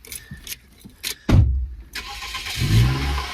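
A car engine cranks and catches, then settles into a rumbling idle up close, after some clicks and rustling inside the car.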